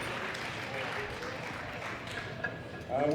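Crowd applauding at the 2018 World Classic Powerlifting Championships, men's junior 120+ kg class: a faint, steady wash of clapping from a distant audience that lasts throughout, with a slight swell near the end.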